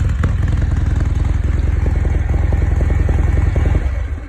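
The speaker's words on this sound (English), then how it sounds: "It loves to rev, it loves to be ridden hard." A modified Harley-Davidson Fat Bob 114 V-twin runs loud and close, its engine throbbing in a steady, rapid, lumpy pulse with mechanical clatter throughout and no voices over it.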